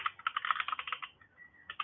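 A run of quick clicks on a computer keyboard as a web address is typed, near and crisp, with a brief pause before a final few keystrokes.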